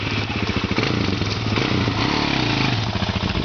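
An ATV engine revs steadily and loudly at close range, a continuous rough, throbbing motor drone with slight rises in pitch and no talking over it.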